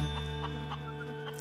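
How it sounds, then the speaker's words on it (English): Chickens clucking softly in a garden setting, a few short repeated clucks at moderate distance over a steady background hum, with no talk. "Chickens don't just eat food, they help grow it here in Dirtgirlworld."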